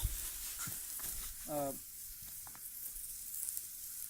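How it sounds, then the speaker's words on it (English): Faint, steady sizzling of food frying over a small flame on an ultralight backpacking wood stove, with light scrapes and a brief clatter in the background. "I'm going to hear it sizzle."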